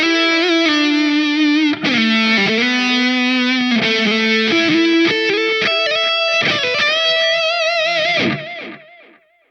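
A sustained, distorted electric guitar lead from a Line 6 Helix plays bending melodic notes, with tap-tempo delay echoes trailing behind them, loud and continuous before fading out at the end.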